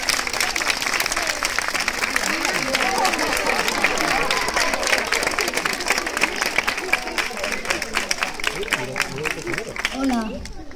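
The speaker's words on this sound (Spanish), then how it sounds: "Vamos a recibir con un fuerte aplauso a Aymar." A large crowd applauds loudly and steadily to welcome a royal cook at a princess ball event in Madrid, with cheering and chatter mixed into the dense clapping throughout.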